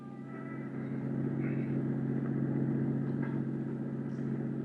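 A car cruises slowly through city streets, producing a steady mid-pitched engine hum and road rumble throughout, with faint brief noises over it and no talking.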